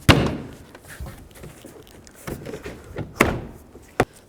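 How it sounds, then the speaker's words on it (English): A BMW X3 door panel is pressed back onto its retaining clips, giving a few separate thumps and sharp clicks spaced irregularly, close and fairly loud, with no talking. "And then push the door panel."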